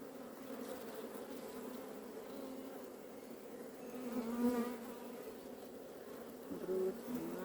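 Honeybees buzzing around an open beehive during a hive inspection, a steady close droning hum with individual bees swelling louder as they pass near.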